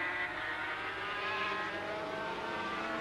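A blue 500cc Suzuki Grand Prix racing motorcycle prepared by Roberto Gallina at the 1982 Dutch TT in Assen, a sustained high-pitched two-stroke engine wail that holds steady and loud the whole time.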